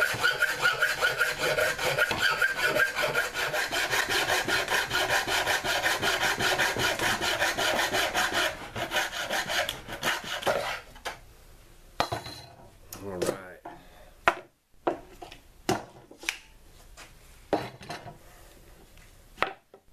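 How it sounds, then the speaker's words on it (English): A deer antler is cut in half with a saw, giving a steady, loud rasping stroke that runs continuously for about ten seconds, then breaks into scattered knocks and scrapes as the cut finishes and the pieces are handled. "go ahead and cut this antler in half"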